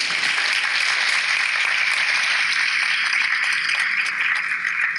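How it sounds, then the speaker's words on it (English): Sustained applause from an audience at a school board meeting honoring educators, a dense steady wash of many hands clapping throughout with no voices on top. "So a round of applause for all of you."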